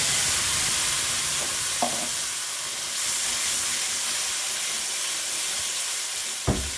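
Whole spices (cloves, small cardamom pods, bay leaves and a piece of cinnamon) fry in caramelizing sugar and are stirred, giving a loud, steady sizzle with a couple of brief clinks of the spoon.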